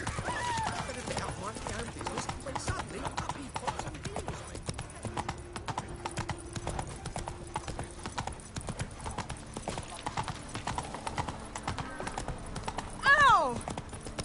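Horse hooves trot in a steady clip-clop rhythm in The Witcher 3 video game, close and moderately loud, with a brief whinny near the end and no talking.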